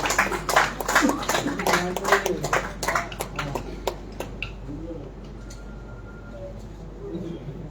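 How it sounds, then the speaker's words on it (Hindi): Audience applause at a Hindi poetry award event welcoming a poet to the stage, loud sharp claps that thin out and die away, leaving quiet room noise and faint voices. "तालियों से जोरदार से इनका स्वागत कीजिए।"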